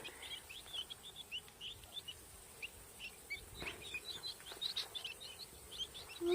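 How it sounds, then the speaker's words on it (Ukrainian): Newly hatched guinea fowl keets peep and chirp with thin, high, scattered calls, small and fairly close over a quiet background hiss. "А такі цесарятка. Дивіться. О, такі маленькі, голубенькі навіть є"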